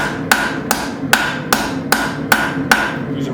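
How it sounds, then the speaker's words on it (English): Seven evenly spaced sharp strikes of a cross peen hammer ring out as a blacksmith forges a split cross hook, each blow a bright metallic clang with a quick decay, loud and close. "Using my cross peen."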